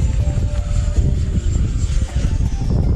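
RC F-16 model jet flying a barrel roll outdoors, a loud continuous electric ducted-fan whine and rush with gusty wind noise, holding steady throughout.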